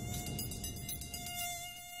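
A mosquito whines steadily with a thin, high buzz that drifts slightly in pitch, faint and close, with nothing else over it.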